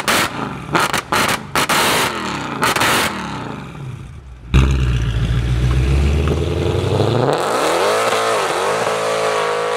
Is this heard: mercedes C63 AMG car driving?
yes